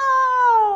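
A cat gives one loud, clear, drawn-out meow with a slightly falling pitch, close and alone.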